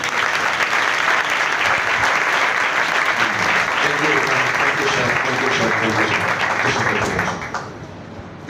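Congregation at an annual Christian prayer festival sermon applauds in sustained, dense clapping for about seven seconds, loud and close, before it thins out toward the end, with a few voices mixed in.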